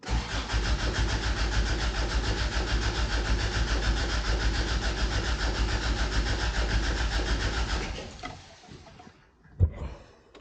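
A classic Toyota pickup's engine cranking steadily on the starter for about eight seconds, a loud, continuous churning whir that cuts off abruptly, followed by a brief clunk.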